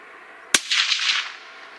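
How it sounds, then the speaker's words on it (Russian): A single sharp rifle shot cracks out, followed by a brief rolling echo that fades quickly, from a rifle being zeroed with a Sytong RM03-35LRF rangefinder scope. "Так, делаем выстрел"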